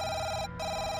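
An electronic telephone ring sounds loud and close as a steady buzzing tone with a brief gap in the middle, heard alone with no talk.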